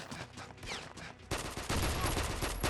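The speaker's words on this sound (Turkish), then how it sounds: "Adam sniperla vurdu beni." Gunfire from a sniper rifle in the online mobile FPS Combat Master crackles in quick bursts of rapid shots, loud and dense, with heavier firing taking over halfway through.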